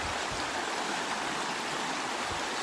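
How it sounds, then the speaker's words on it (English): Water overflows from a woodland pond through a partly clogged pipe, a steady close rushing and splashing that fills the whole stretch with no break and no voices. "This is the other pond, and it overflows."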